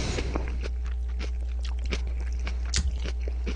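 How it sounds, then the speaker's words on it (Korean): Crunchy kimchi fresh from the fridge is chewed close up, with a quick series of crisp bites and wet crunches and no talking. "냉장고에서 막 꺼내온 아삭아삭 씹히는 김치"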